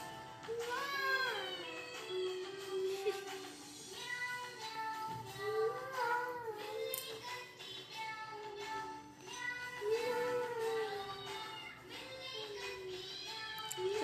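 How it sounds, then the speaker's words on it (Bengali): Several drawn-out, wavering meows, close and fairly loud, one after another across the whole stretch with short gaps between them. "দেখো মাও মাও করছে"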